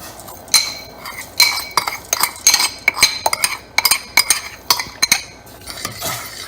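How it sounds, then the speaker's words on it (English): A metal spoon stirring couscous in a pot, with a run of sharp clinks and scrapes against the pot in an irregular rhythm, close and fairly loud, with no talking. "I'm going to use this spoon to stir it."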